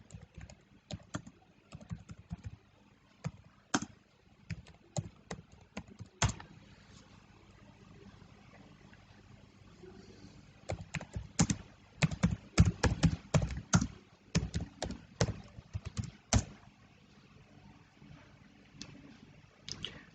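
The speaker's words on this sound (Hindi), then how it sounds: "तो सिंपली मैं टाइप करता हूँ पिप इंस्टॉल जुपिटर।" Computer keyboard keys tapped in irregular bursts while entering a pip install command for Jupyter, close and clear, with short pauses between flurries of keystrokes.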